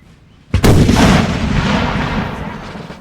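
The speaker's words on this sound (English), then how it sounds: "See the guns go off." Cannon salvo from Napoleonic artillery during the 1805 Battle of Caldiero in Napoleon Total War: a sudden loud boom at about half a second, then a long rumbling roll of gunfire that slowly fades, with no voices.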